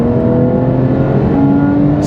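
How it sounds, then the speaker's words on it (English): A Porsche 991 Carrera with 350 horsepower accelerates at full throttle in fourth gear in sport mode, its engine a loud, steady drone with a tone that climbs as revs build, heard close from inside the car. "I'm in fourth gear. I push all the pedal down, and let's see."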